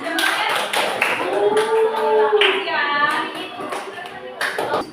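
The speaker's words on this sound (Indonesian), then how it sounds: "Oke, terima kasih tepuk tangan" Children in a fourth-grade math classroom clap their hands in a short burst of applause, brisk and close, with a voice speaking over it.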